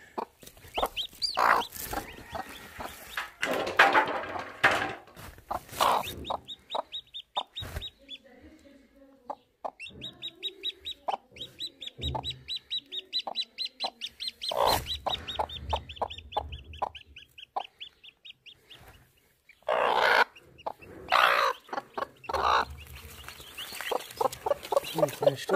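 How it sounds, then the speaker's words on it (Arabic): Hens and chicks at a rural Bedouin home clucking and cheeping close by, a long stretch of repeated calls with high peeping chicks throughout and a few louder bursts of clucking. "كتاكيت."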